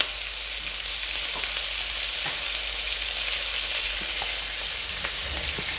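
Garlic, ginger and onion frying in a pan for a potato and sausage casserole, a steady bright sizzle that stays even and close throughout, with a few faint clicks and no voices.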